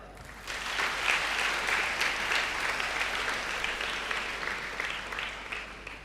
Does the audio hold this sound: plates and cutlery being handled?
no